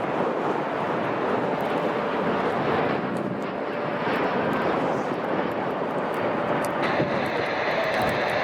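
A Spirit Airlines A320neo jet at Chicago O'Hare airport gives a broad, steady engine roar with some wind buffeting, sustained at moderate distance and with no talk.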